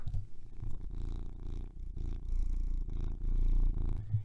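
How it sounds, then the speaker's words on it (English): A cat purrs steadily and close, a low rumbling vibration that pulses continuously with small breathy swells, no talking. "Hello, Winston, my favourite cat companion."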